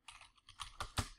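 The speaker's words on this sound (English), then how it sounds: "That's a whole lot of typing" Quick keystrokes clatter on a computer keyboard, a short burst of close, quiet typing with uneven rhythm.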